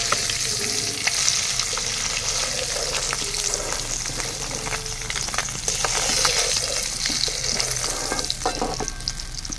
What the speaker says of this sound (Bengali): বাকি মাছগুলো সেমভাবে ভেজে নেব